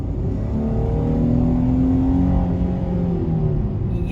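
2020 Dodge Charger SXT with a 3.6 V6 and 8-speed automatic driving, a steady close engine hum and road rumble with a gentle rise in revs, heard from inside without talk.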